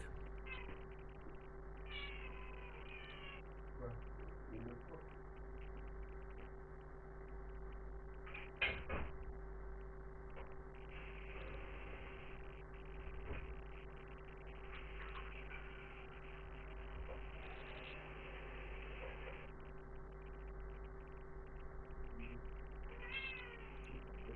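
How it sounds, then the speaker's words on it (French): A cat meows a few times in a quiet scene from The Witcher 3 video game, the faint calls set over a low steady hum and soft ambient game sounds. "Un petit chat, t'as pas assez d'eau?"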